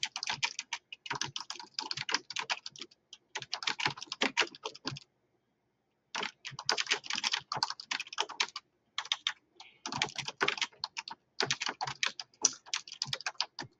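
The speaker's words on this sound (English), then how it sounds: "I'm just going to type it." Fingers type on a computer keyboard in steady bursts of rapid key clicks, separated by brief pauses, close and clear with no talk.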